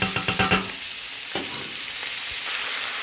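Onion and green chilli fry in hot oil, starting with a few sharp crackling bursts and settling into a steady close sizzle.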